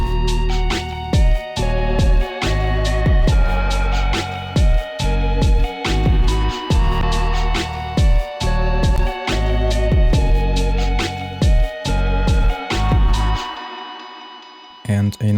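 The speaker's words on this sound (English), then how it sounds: "enable the auto-tune effect" Lo-fi hip-hop melody run through an auto-tune effect set to D sharp minor, a dense, steady pulse of pitched synth or keys with punchy beats repeating in a loop, loud and unbroken until it cuts off near the end.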